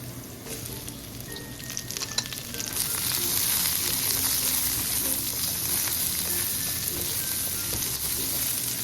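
Garlic and onion sauté in hot oil in a pan for chicken igado. A steady, dense sizzle swells louder about a third of the way in, then holds as a close, continuous hiss with a few faint stirring clinks.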